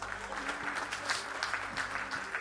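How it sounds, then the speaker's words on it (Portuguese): Congregation applauding during a Thursday service at a Presbyterian church, a dense continuous wash of clapping at moderate distance with a low hum beneath and faint voices mixed in. "em nome de Jesus, dá um aplauso."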